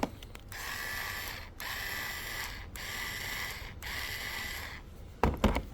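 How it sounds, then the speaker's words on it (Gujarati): A rechargeable cordless screwdriver runs close and loud in four steady whirring bursts of about a second each, separated by short pauses, followed by a couple of sharp clicks at the end. "પછી સ્ક્રૂ ડ્રાઈવર આવ્યું છે જે ચાર્જેબલ આવશે."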